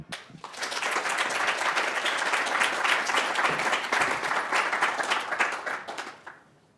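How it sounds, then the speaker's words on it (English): Conference audience applauds a speaker at a spring ideas exchange, a dense, steady wash of many hands clapping that swells quickly, holds for about six seconds, then fades out. "Please give a round of applause to Grant Bridgman"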